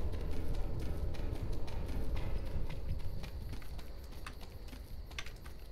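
Quick, even footsteps tap along in the video game Wargames, a brisk run of sharp clicks that stays fairly loud and slowly eases, with no speech over it.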